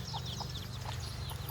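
Chickens cluck in a rural Philippine province yard, short soft calls repeating a few times over a steady low hum with faint background activity.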